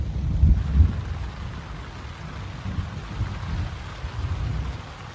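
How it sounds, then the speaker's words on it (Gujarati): Rain drums on a tent pitched in the Kedar valley during a thunderstorm, a close, continuous patter with heavier low rumbling bursts at the start and again toward the end. "અવાજ આવતો હોય તમને વરસાદનો ભાઈ, જે વીજળીના કડાકા થાય છે"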